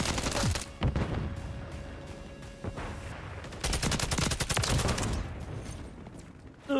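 Rapid bursts of automatic gunfire from Call of Duty Modern Warfare III, loud and close, with dense volleys clustered between short pauses and a final burst at the end.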